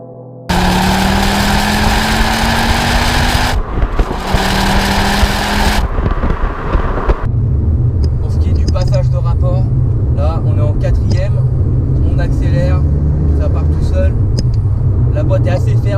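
A 2.5-litre turbocharged five-cylinder engine in a Ford Focus RS Mk2 with front-wheel drive, rising through the gears with loud rumbling pulls, then settling into a steady drone under someone talking.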